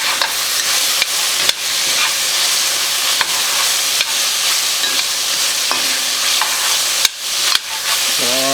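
Meat browns in a pot over a camp burner for Cajun jambalaya, a loud, continuous sizzle broken by several sharp scraping and stirring knocks against the pot bottom, with no talking.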